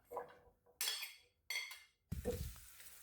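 Carrots stirred in a frying pan with oil, giving scraping, clinking strokes of a utensil against the pan in a few distinct bursts, quiet and close, with a light sizzle.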